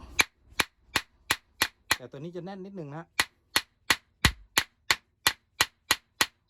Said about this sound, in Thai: เพื่อที่การตอกใบขึ้นลงจะได้ตอกง่ายนะฮะ